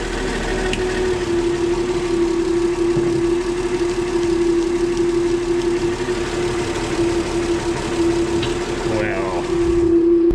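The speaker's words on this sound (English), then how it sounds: "It bogs the engine down when we hit it." The engine of a 1966 Ford F100 pickup truck runs steadily at a constant droning pitch throughout, fairly loud and close, with faint background voices and a brief squeak near the end.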